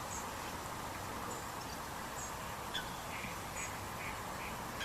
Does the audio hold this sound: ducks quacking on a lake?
yes